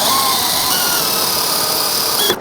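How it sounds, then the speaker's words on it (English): A power drill bores a bolt hole in a shop truck's front end behind the removed grille, a loud steady whine with a rising squeal that cuts off abruptly at the end. "I'm going to drill and I'm going to install a 1/4-20 riv nut."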